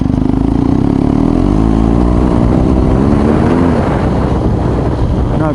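A BMW R1250 GS Adventure motorcycle engine pulls steadily uphill under load, its loud low drone rising slightly in pitch as it accelerates, with some wind rush over the microphone.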